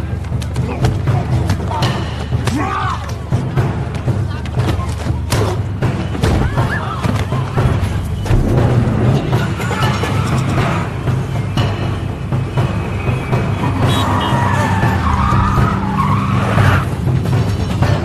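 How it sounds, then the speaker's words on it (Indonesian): Speeding truck striking a man in a chase scene from the film Taken, heard as loud continuous tire skidding and engine roar with thuds, dense and close throughout. "Saat melarikan diri, Peter ditabrak oleh truk yang melaju dengan kecepatan tinggi."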